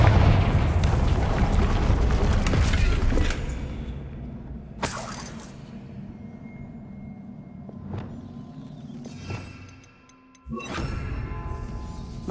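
A Confringo spell explosion in Hogwarts Legacy bursts into a loud, crashing roar of debris at the start. It fades into a lower rumble, followed by a few sharp, shattering cracks and a final burst near the end.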